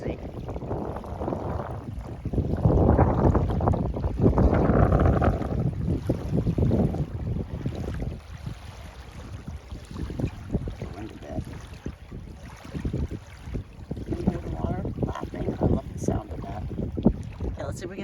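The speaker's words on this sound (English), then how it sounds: "Still breezy." Breezy wind blowing across a lake beach, a steady rushing roar buffeting the microphone that swells and eases, with faint water movement beneath.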